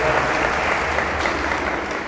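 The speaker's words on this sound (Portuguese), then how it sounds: "Salve de palmas para o Senhor." A church congregation applauding the Lord during a sermon by Padre Jefferson Cruz Veronês, a dense roar of clapping hands that holds steady and close for the whole brief stretch.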